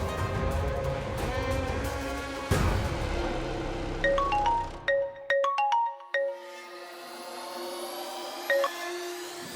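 A phone ringtone plays in a household drama scene: a short melodic run of bright electronic tones sounding clearly over a dense musical background, then ending in a sustained tone.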